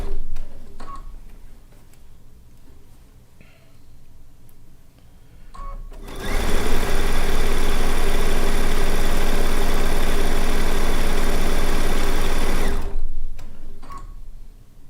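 A sewing machine stitches quilt fabric down, starting abruptly after a quiet stretch and running as a loud, continuous, even drone for about seven seconds before stopping.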